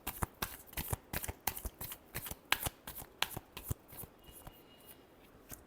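A deck of tarot cards is riffled and shuffled by hand, a rapid run of crisp, close flapping snaps in irregular bursts that fade out toward the end.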